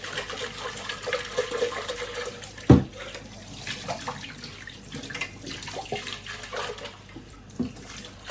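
Hot water runs from a kitchen tap in a continuous splashing stream, with clattering and knocking as items are rinsed beneath it.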